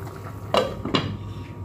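Pampano fish stew in tomato being stirred in a pot, then covered with its lid: two short clanks of metal cookware a moment apart over a low steady background hum, no talk.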